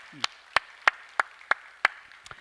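A church congregation claps in slow unison during a Korean prayer service, seven sharp, evenly spaced claps ringing in a reverberant hall, with a brief voice at the start.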